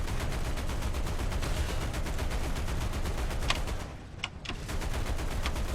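Sustained rapid gunfire from a tank's machine gun in the War Thunder tank combat game, a dense continuous rattle that dips briefly near the end before resuming, with a few sharper impact cracks.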